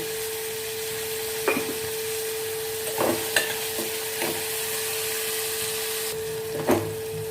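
Crushed tomatoes with salt sautéing in a pan for brinjal gravy, giving a low steady sizzle with a few scattered scrapes and knocks of a spoon stirring, close and moderately quiet, no voices.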